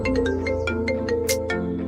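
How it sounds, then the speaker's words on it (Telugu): A phone ringtone plays a short, clear electronic melody of repeated tonal notes, steady and alone with no talk. "అసలు రియా ఎందుకు ఫోన్ చేసిందో ఏమో."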